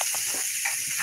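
Food sizzling in a pan during live home cooking, a constant bright hiss with light crackles throughout, close and steady.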